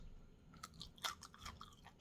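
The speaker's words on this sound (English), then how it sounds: "it's crunchy, it's spicy, but it's crunchy. And this is a piece of the daikon radish." Biting and chewing a crunchy piece of spicy daikon radish fermented for three days, a few close, crisp crunches and chews at moderate volume with no talking.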